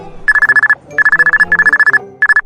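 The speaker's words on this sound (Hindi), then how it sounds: "तभी उसके घर से फोन आता है" An electronic telephone ringtone trilling in rapid pulsed bursts, four rings in quick succession, loud and close.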